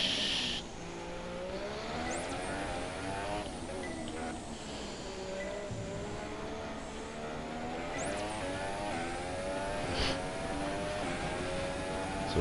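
The Haas F1 car's engine in F1 2017 gives a continuous high-pitched racing whine that climbs and drops through gear changes as the car accelerates and brakes.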